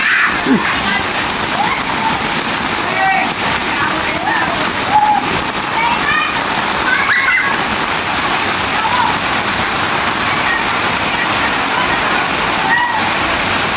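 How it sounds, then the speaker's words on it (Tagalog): Floodwater from Typhoon Carina in Santa Mesa, Manila, a loud continuous rush of heavy rain and flowing water near the listener, with faint voices scattered through the wash. "ayan na nasaksihan nyo na ang baha, ang kaganapan dito sa Santa Misa, Manila"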